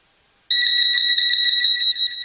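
A voltage tester held to a live wire during a ceiling fan installation gives a loud, steady high-pitched electronic beep. The tone starts abruptly after a short silence and holds continuously until the end.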